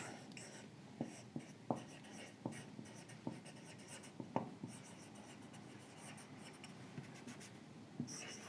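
Repeated sharp taps and scrapes of writing on a board during an engineering lecture, an irregular run of close, crisp strokes in a quiet room.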